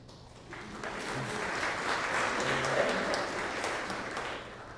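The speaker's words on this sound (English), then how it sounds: "You mean they just show up and you clap for them?" Church congregation applauding the pastor's visiting parents, a steady wash of many hands clapping that swells and holds at moderate loudness throughout.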